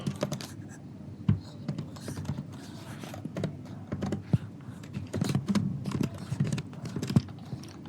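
Computer keyboard typing code into a YAML file in VS Code: close, quick clusters of key clicks with short pauses, and a few sharper keystrokes standing out.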